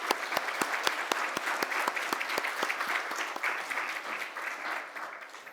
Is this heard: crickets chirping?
no